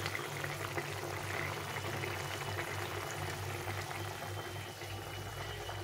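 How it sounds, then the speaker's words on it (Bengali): Curry gravy bubbling at a boil in a pan, a steady soft burbling hiss close by with no talking, even and unbroken from start to finish. "ঝোলটা ফুটে গেছে"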